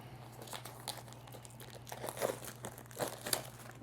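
Packaging of a Blockstream Jade hardware wallet is cut open, giving quiet, close crinkling and tearing rustles in irregular bursts over a low steady hum.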